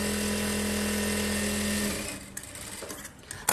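A sewing machine stitches a round seam on an ordinary blouse for a grandmother, running at a steady fast clatter for about two seconds, then stopping to quieter handling noises.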